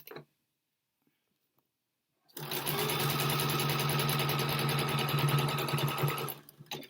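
A sewing machine stitches fabric in one continuous run of several seconds after a short silence, a steady fast rattling hum close by.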